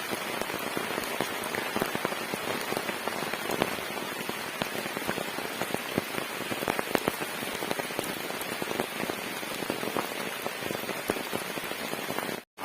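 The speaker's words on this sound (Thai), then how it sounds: "ตอนนี้ฝนเริ่มแรงขึ้น" Heavy rain pours down steadily on a forest campsite, a dense, unbroken patter of drops striking surfaces close by, with no voices.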